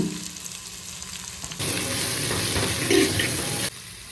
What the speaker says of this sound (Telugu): ఆనియన్స్ ఫ్రై అయ్యేటప్పుడే కొద్దిగా కరివేపాకు వేసుకోండి